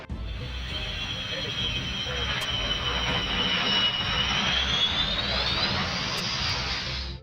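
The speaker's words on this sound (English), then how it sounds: "the Russian Knights aerobatic team Su-27 Flanker performed a belly landing after failing to deploy its landing gear" A Russian Knights aerobatic team Su-27 Flanker jet at an air show, its engine giving a loud, steady roaring whine that holds throughout and climbs slightly in pitch toward the end.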